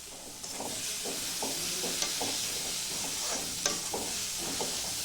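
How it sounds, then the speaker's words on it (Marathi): Rice mixture with salt and coriander being stirred in a sizzling pan, a soft steady frying hiss broken by repeated scraping strokes of a spoon. "आता त्यांना मिक्स करून घेते."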